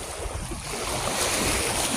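Sea waves at Kabilang Ibayo Beach in Pola, Oriental Mindoro, a steady broadband wash of surf mixed with wind noise on the microphone, continuous and fairly close, with no talk.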